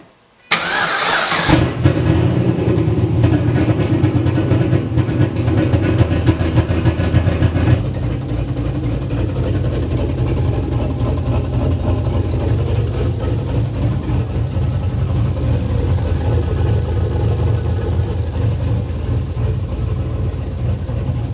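A single-turbo Pontiac GTO engine cranks and catches on its first start, then roars loudly with a rough, rising rev before settling into a steady, heavy idle that runs on alone for many seconds.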